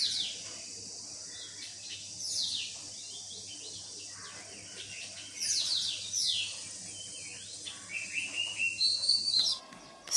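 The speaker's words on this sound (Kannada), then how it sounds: "ತುಂಬ ಚೆನ್ನಾಗಿ ಹಕ್ಕಿಗಳು ಕೂಗು ಸೌಂಡ್ ಎಲ್ಲ ಕೇಳಿಸ್ತಿತ್ತು" Birds sing outdoors in the early morning, with distant chirps and whistled phrases in quiet intervals, growing busier toward the end over a faint steady hum.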